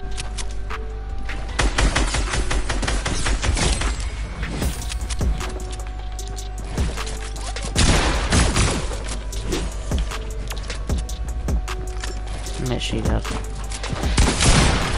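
Rapid gunfire from an overpowered weapon in a shooter video game, loud dense bursts of shots repeating throughout, with other game sounds mixed in.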